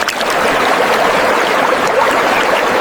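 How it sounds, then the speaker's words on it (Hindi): Fast-flowing river water rushes in a steady, loud, broadband wash with no breaks, close and continuous throughout, with no voices. "नादी का पानी तेज था"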